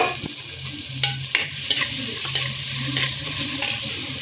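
Small chopped ripe tomatoes, curry leaves and garlic sauté in a pan with a steady close sizzle, broken by light scrapes and taps of a stirring spoon, with no talking.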